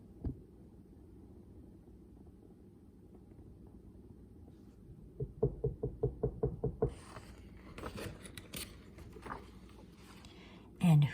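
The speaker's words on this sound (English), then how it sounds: "there was a knock at the door" A quick series of about seven firm knocks on a door, evenly spaced and fairly close, rising out of a quiet room with faint background sounds, followed by scattered softer thumps and a short louder bump at the end.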